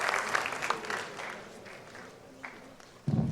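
A jazz festival audience applauds a high school jazz band, with a burst of clapping that gradually thins and fades, followed by a sudden louder sound at the very end.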